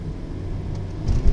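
A Toyota Yaris 1.33 Cool with an automatic gearbox accelerates, its engine hum climbing steadily in pitch over a loud cabin rumble that swells slightly toward the end.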